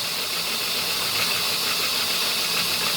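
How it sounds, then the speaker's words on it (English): A 3D-printed air engine with a 30 mm bore and 20 mm stroke runs steadily on compressed air, giving a loud, close, continuous hiss with a fast mechanical chatter underneath and no voices. "So I like this motor. This is 30 millimeter bore by 20 millimeter stroke."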